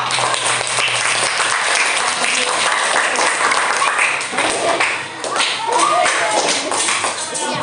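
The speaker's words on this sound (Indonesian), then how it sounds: "saya tepuk tangan untuk semua kelompok." Classroom applause as pupils clap for all the student groups, a dense, steady burst of many hands lasting several seconds with a brief dip near the middle, close and loud in the room.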